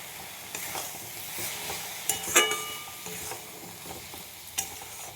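Homemade paste of ginger, tomato and green chili with coriander and cumin powder being stirred and sautéed in a pan, soft sizzling under scattered scraping spatula strokes and a few sharper clinks, no voices.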